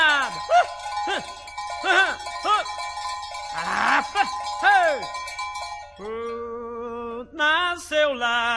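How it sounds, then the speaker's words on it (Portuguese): Cattle wearing cowbells come closer on a farm in Minas Gerais, Brazil. Bells clang in separate strikes with a bright ring, and then long, loud lowing calls carry over the top. "Boi vem encaretado."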